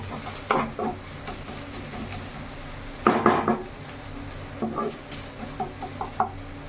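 Onions frying until golden in a home kitchen pan, with a soft background sizzle broken by scattered clinks and scrapes of a spoon stirring against the pan, some sharp and close, others lighter.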